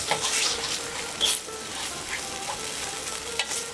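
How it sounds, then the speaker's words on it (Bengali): Roasted poppy seed paste with spices, salt and green chillies sautéed in a pan for aloo posto, a steady near sizzle broken by occasional stirring scrapes and soft knocks, no voices. "যেহেতু পোস্তটা আমার রোস্ট করা ছিল তাই বেশি কষতে হবে না, জাস্ট 1 মিনিট মধ্যে একটু কষে নেব।"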